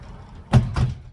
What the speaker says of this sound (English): needs to shut the door.